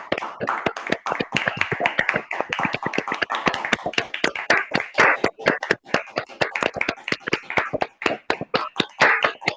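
An audience claps steadily throughout a webinar award presentation, a dense run of sharp close hand claps that neither builds nor fades.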